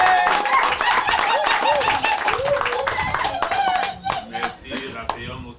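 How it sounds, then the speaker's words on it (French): Audience applause for a band at a wedding ceremony in a town hall, a dense wash of clapping with voices talking over it, thinning out toward the end. "applaudissons très très fort pour ce groupe"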